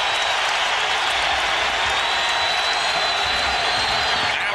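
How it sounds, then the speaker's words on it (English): Basketball arena crowd at an NBA Eastern Conference Finals playoff game between the Bucks and 76ers, a dense, continuous roar of cheering and applause filling the whole stretch at steady, loud intensity. "The crowd in this one."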